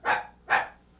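A man imitates a dog barking, giving two short, loud, close woof-like barks about half a second apart with no other talk.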